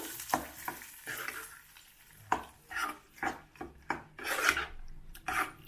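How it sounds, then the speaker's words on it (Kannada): A spoon stirs tomato chutney mixed with fresh tempering, giving repeated scraping and rubbing strokes against the pan in an uneven rhythm, close up and alone. "ಎಲ್ಲ ಮಿಕ್ಸ್ ಆಗೋ ಥರ ಚೆನ್ನಾಗಿ ಕಲ್ಸ್ಕೋಬೇಕು"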